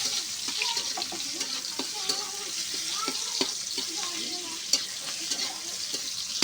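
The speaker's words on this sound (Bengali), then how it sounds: "এতে পেঁয়াজটা লাল লাল করে ভেজে নেব।" Chopped onion frying in oil left from cooking fish, a close, even sizzle with spoon stirring and scraping, while a person speaks softly over it.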